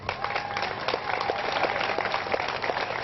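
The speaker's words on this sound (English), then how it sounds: "clap if you actually participated in your local election back in May" A crowd at an outdoor Black Lives Matter rally claps in a steady, scattered patter of applause with distinct individual hand claps, moderately loud and unbroken, with no talking.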